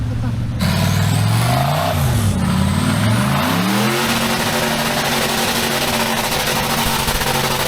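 An off-road vehicle's engine revs hard during a jungle off-road challenge in Malaysia, rising and falling in loud, close sweeping surges before settling into a rough roar, with people shouting over it.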